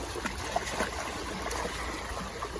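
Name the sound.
fast-moving stream water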